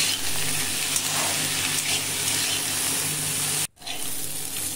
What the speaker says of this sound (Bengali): এই দেখুন অনেকক্ষণ ধরে নাড়াচাড়া করে ভাজতে হবে।